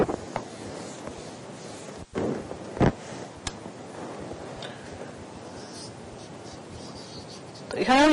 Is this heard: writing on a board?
yes